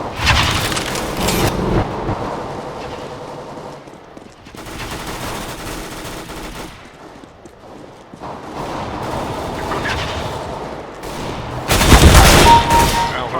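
Bursts of rapid gunfire in Counter-Strike: Global Offensive crackle in several loud volleys separated by short lulls, ending with a heavy, dense burst.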